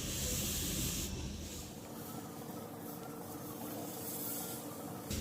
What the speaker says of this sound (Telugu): ఈ చుట్టూ ఆవిరి అయితే వస్తుంది కదా, ఆవిరి పోకుండా నేను తడిబట్ట అయితే వేస్తాను.